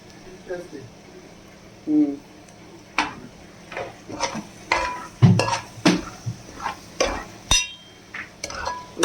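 Masala frying in a pan for boti curry, with clinks and scrapes of a spoon stirring against the metal over a low sizzle. Someone speaks intermittently throughout.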